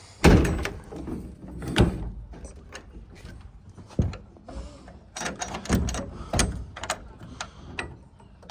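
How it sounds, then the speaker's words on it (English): A trailer door, on a trailer under repair, being worked closed: a run of sharp metallic clunks, latch clicks and rattles at close range, with several loud knocks spaced between quieter scraping. "while I'm trying to close the door."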